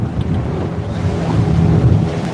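A Thoothukudi fishing boat speeds across the sea toward shore in wind, giving a continuous loud roar of engine, water and wind buffeting the microphone, with no talk.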